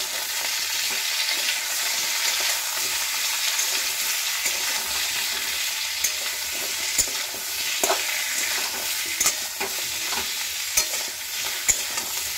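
A bharta mash of fried ingredients, seasoned with salt and turmeric powder, is stirred in a pan. A steady sizzle runs underneath, with scrapes and clicks from the spoon coming close and irregularly, and no one speaks.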